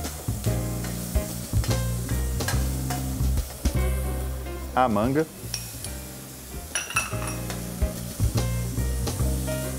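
Shrimp seasoned with salt and pepper fry in a pan with onion and leek, a steady sizzle under scraping stirs and light utensil clinks against the pan, with a brief spoken word.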